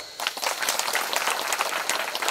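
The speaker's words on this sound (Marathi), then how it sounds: "त्या आयांनी आता टाळी वाजवा" An audience of mothers at a village devotional gathering clapping together, a steady dense wash of applause, loud and sustained throughout without speech.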